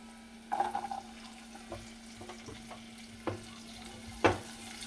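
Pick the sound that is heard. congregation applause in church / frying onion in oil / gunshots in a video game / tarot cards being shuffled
frying onion in oil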